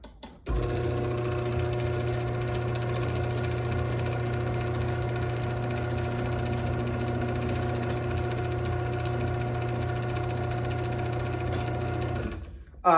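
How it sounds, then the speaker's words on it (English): A Chamberlain C410 garage door opener running its door down, giving a steady loud motor hum and drone that starts abruptly and continues evenly for about twelve seconds before stopping. "this one still is a nice sturdy machine that'll last a long time. So we'll run this back down."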